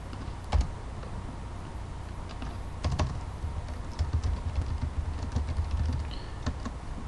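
Code being typed on a computer keyboard while programming a .NET Gadgeteer touch screen drawing app, with quick irregular key clicks close by, bursts of faster typing and brief pauses, and no talking.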